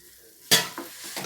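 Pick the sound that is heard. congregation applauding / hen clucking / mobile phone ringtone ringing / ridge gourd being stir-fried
ridge gourd being stir-fried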